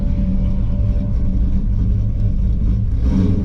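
Loud, steady engine rumble from an LT1 Camaro running on a track, holding a dense low drone throughout with slight swells in revs near the end and no voices over it.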